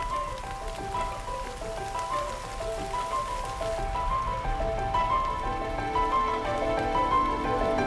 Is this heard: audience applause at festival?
no